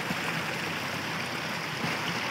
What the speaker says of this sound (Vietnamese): Suối nước chảy nè